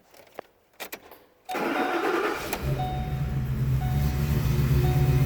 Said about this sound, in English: First start up after I got it all back together and exhaust welded.